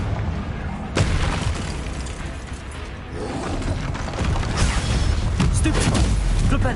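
Blasting fire spell cast in Hogwarts Legacy during a haunted-castle duel: a sharp boom near one second, then dense crackling bursts and rumbling impacts layered over continuous battle noise, with a voice speaking underneath.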